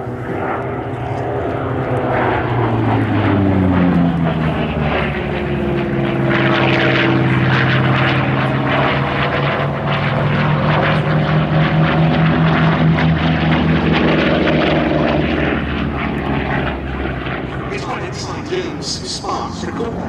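A propeller fighter aircraft, the successor to the F6F Hellcat, with a small airframe and big engine, flies past at an airshow. A loud, sustained engine roar swells and shifts pitch as it passes close by.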